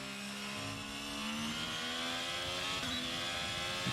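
Formula 1 cars racing in the F1 22 video game, with an engine whining high and steady as it accelerates through the gears, another car's engine note layered underneath.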